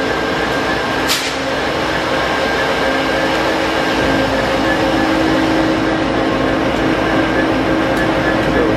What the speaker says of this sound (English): Locomotive 456 just sitting here, hanging out.